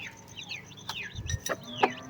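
Chickens cluck and chirp close by in short, busy bursts over a grasshopper, with small chicks peeping in between.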